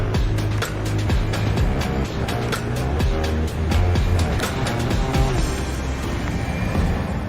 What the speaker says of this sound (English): Drones are here.